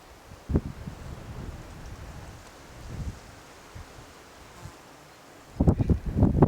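Gusty wind buffets the microphone in low rumbling bursts over open marshland, with soft rustling in the background.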